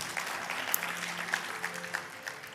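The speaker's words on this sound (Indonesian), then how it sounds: "Tepuk tangan buat Indonesia." Church congregation clapping in a sustained burst of applause, a dense patter of many hands in a large hall, steady throughout.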